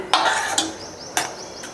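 A spoon stirs a banana stem and chana dal kootu in a pot after salt goes in, making a few sharp metallic scrapes and clinks against the pot over a faint simmer.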